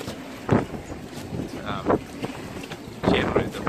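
Strong gusty wind of roughly 25 to 35 knots roars across a sailboat on open water near Deal Island, throwing spray, with bursts of buffeting wind noise and splashing rising and falling unevenly around a voice speaking.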